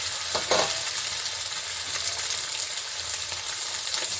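Paneer cubes frying in very hot oil for a coconut paneer dish: a steady, close hiss and crackle of sizzling, with a couple of sharper pops near the start, heard alone without talk.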